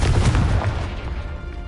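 A Confringo spell explosion in Hogwarts Legacy sounds as a loud, booming burst with a heavy low-end rumble that fades over a second or so, close and prominent with no talk over it.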